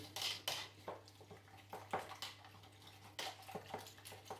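Regular cheese being mixed into broccoli and Stilton tart filling in a bowl, with faint, irregular clicks and scrapes of a utensil against the bowl in short bursts, no talking.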